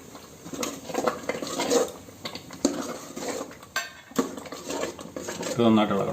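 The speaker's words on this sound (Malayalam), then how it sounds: "നന്നായിട്ട് ഇളക്കി വാങ്ങി വെക്കുക" A spoon scrapes and clinks against a metal pot as spiced pachoru is stirred, irregular close knocks and scrapes with a faint bubbling underneath and a brief low voice.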